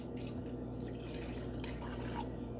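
Liquid is poured into a container while making homemade disinfectant wipes, producing a steady, faint trickle and splash that continues throughout, with no talk.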